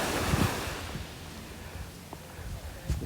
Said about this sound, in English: It's got nice little waves. This is the Caribbean Sea.